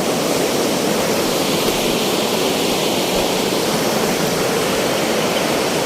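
A large river in flood pours steadily, a dense, loud, unbroken rush of water that holds constant from start to finish with no voices.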